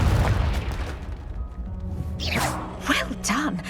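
A Confringo fire spell explodes in the wizarding video game Hogwarts Legacy, a heavy booming blast up close at the start, rumbling and fading, followed by a character speaking over quieter game sounds.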